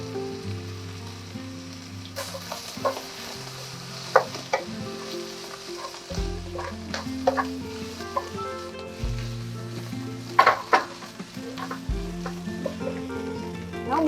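Ginger slices fry in oil in a wok for a vegetarian pickled-cabbage fish dish, a steady close sizzle broken by stirring clatters and scrapes, with a low background hum and no talk.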